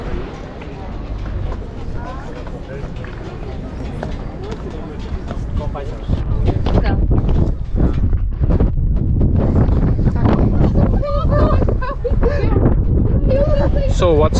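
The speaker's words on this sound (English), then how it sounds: "It's very windy." Strong sea wind buffets the microphone in a constant heavy roar that grows louder midway, with people talking underneath.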